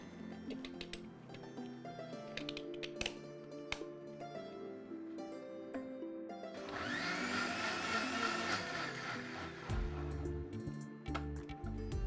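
A kitchen blender whirs a millet drink with ice cubes, its motor rising into a steady roaring spin for several seconds among quieter clicks and knocks before and after.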